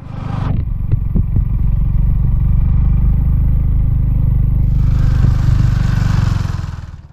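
A motorcycle engine labors loudly and steadily up close while climbing a steep hill road to Boga Lake, Bandarban, with a few clattering knocks early on and a rising hiss toward the end.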